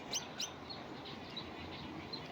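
A couple of quick, high goldfinch chirps stand out briefly, followed by faint scattered tweets over a steady low background hiss.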